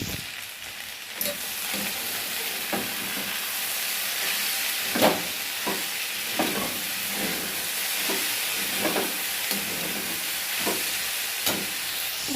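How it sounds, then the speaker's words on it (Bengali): Potatoes fry in hot oil in a wok with a constant loud sizzle and hiss, punctuated by regular stirring knocks and scrapes every second or so. "এই যে আমি কড়াইয়ে দিয়ে দিয়েছি তেল দিয়ে ভেজে নিয়ে আমি"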